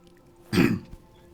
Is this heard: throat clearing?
yes